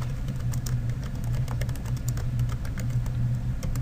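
Fast typing on a computer keyboard, a quick stream of light key clicks over a steady low hum, close and continuous with no talking.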